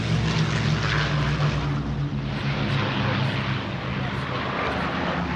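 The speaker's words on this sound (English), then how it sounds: "Here comes the Lancaster." An Avro Lancaster bomber roars past at an air show, its propeller engines giving a steady, heavy drone that stays loud throughout, with a voice speaking over it.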